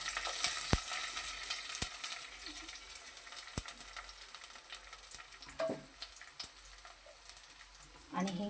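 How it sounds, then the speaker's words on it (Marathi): Onion and curry leaves sizzle in hot oil for tempering a fish curry, a steady loud crackle with sharp pops scattered throughout, heard on its own without speech. "आता आपण फोडणीला देऊया"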